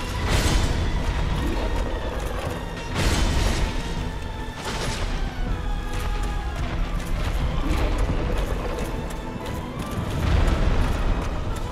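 Repeated booming blasts from the Demon Firesage boss fight in the video game Dark Souls, several loud explosive bursts spaced a few seconds apart over a continuous dense rumble of game noise.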